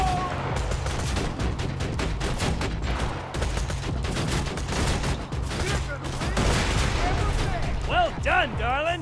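Turret fire in Borderlands 2 crackles as rapid automatic bursts with heavy gunfire and explosions, loud and near, while a voice talks over the shooting.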